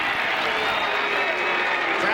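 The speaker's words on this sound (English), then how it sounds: "Crowd doesn't like that holding call." A 2002 NCAA lacrosse semifinal crowd of Syracuse and Virginia fans reacting to a holding call, a dense steady roar of voices and some clapping filling the stadium throughout, with no distinct individual speech.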